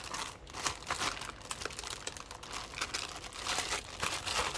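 A plastic bag crinkles and crunches as it is folded tightly over a product being prepped for Amazon FBA shipping, steady close rustling throughout with no talk.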